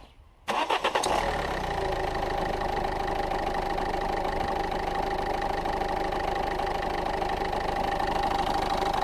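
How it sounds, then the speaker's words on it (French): After a brief quiet moment, a car engine cranks and catches after an oil change, then settles into a steady, close idle with a constant mechanical hum. "Donc là on peut procéder à la mise en marche du moteur"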